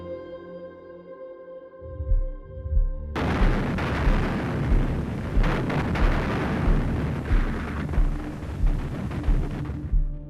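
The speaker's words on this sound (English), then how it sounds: "Let's see a real film footage fragment recorded during the battle where the deafening roar of Soviet gunfire can" Soviet artillery barrage during the battle of Berlin, captured on archival film: after a quieter tonal opening, a dense, continuous roar of gunfire erupts, with repeated heavy booms and bursts standing out from the rumbling mass.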